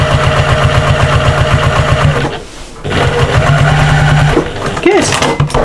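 A sewing machine stitches a cross body bag with cream thread, its steady rapid motor hum running close and loud, briefly pausing partway, then resuming with a spoken voice audible.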